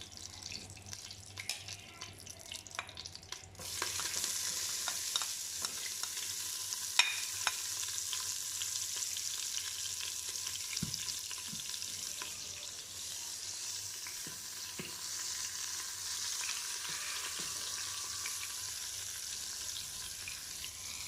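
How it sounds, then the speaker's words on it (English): Onion and garlic fry in a pot with a steady soft sizzle that jumps louder a few seconds in and then continues evenly and quietly with occasional light stirring clicks and no talk. "Okay, and then put the onion and garlic."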